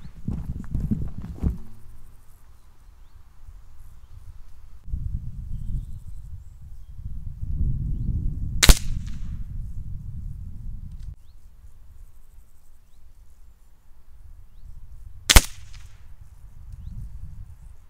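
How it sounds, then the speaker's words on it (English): An airgun fires two shots at a target 25 yards away, each a single sharp crack standing well apart over a low rumbling outdoor background, with no voices. "Now I'm going to shoot a few shots at the top dot, and we're now at 25 yards"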